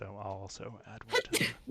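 A single sneeze bursts out suddenly near the end, close and loud, right after a brief stretch of casual talk during a tabletop card game session.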